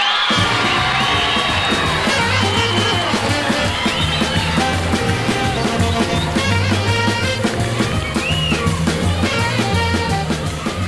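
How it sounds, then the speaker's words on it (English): A large crowd at a concert applauds and cheers loudly, with dense clapping, whoops and shouts filling the whole stretch without pause. "how about a nice warm round of applause to welcome the world's greatest blues singer, the king of the blues"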